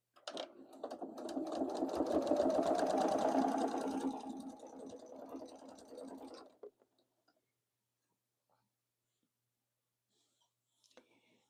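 A sewing machine stitches a quilt binding seam in a steady, close run of rapid needle strokes for about six seconds, then stops, leaving near silence with a couple of faint taps.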